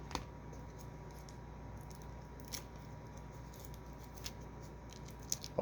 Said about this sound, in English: Kept the scissors close by for this.